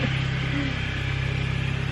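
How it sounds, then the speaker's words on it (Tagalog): A motorcycle engine drones steadily and loudly nearby, a low throbbing hum with a slight pulsing rhythm throughout, and no voices. "May dumang motor."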